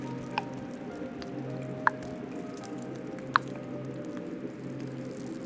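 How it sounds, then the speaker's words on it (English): Faint, sparse water drips inside a quiet cave, a few soft isolated plinks spaced seconds apart over a low steady ambient hum. "The most you hear is just very subtle water drips from the inside."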